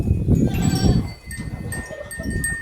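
Cattle in a cowshed munch on freshly laid fodder and chopped chaff, a dense, continuous low crunching and rustling close by, with faint metallic clinks of a cowbell or chain now and then and no talk.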